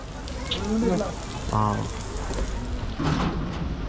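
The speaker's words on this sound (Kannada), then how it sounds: "ಬಟ್ ನಾವು ಬಂದಮೇಲೆ ಇಲ್ಲೂ ಒಳ್ಳೆ ಮಳೆ ಬರ್ತಾಯಿದೆ" Steady hiss of rain falling on a surface throughout, near Jaisalmer, with voices talking over it in the foreground.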